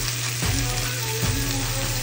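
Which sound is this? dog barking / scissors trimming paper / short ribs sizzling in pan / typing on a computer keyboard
short ribs sizzling in pan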